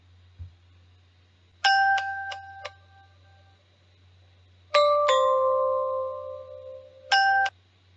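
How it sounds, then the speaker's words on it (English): Synthetic tones built from three NMF bases sound like clean electronic chimes in a few short bursts, with sustained ringing notes in between and quiet gaps, all with no voice. "let me synthesize a sound made by 3 NMF bases."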